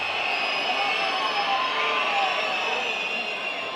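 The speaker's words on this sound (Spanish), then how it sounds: "una tormenta de abucheos se desata sobre el estadio de Sarriá" A football stadium crowd at Sarriá, home of Espanyol, lets out a dense, sustained roar of disapproval at the final whistle, a broad wash of massed voices filling the space with no clear individual sounds.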